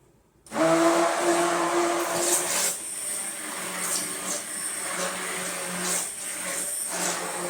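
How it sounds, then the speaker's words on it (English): A stick blender whirs steadily through a batch of fresh cut roses soap, starting abruptly and running near and loud for several seconds with slight dips in pitch as it moves through the mixture. "Use the other blender stick."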